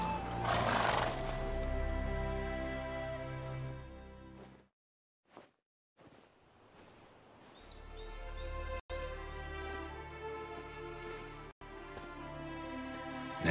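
Roach the horse from The Witcher 3 gallops with loud, steady clip-clop hoofbeats and snorting, broken by a brief near-silence partway through before the hooves pick up again.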